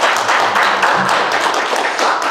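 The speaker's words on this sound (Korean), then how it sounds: "다시 한번 큰 박수로 우리 선교팀." A crowd claps in dense, enthusiastic applause, loud and close, sustained for a couple of seconds.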